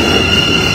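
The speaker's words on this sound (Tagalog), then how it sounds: "My train's already here." A train stands at a station platform, giving off a steady rumbling hum with a high sustained whine, close and continuous throughout.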